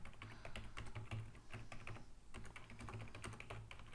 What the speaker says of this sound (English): You have to type in